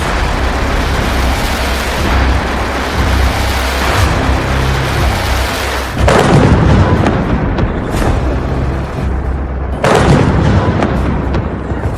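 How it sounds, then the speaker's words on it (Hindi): Booming explosions from a missile attack, with dense rumbling blasts through the first half and two sharp, loud bursts around six and ten seconds, each trailing into a rolling roar. "तेल अवीव में धमाके, बहरीन में अमेरिका के अड्डों पर धमाके"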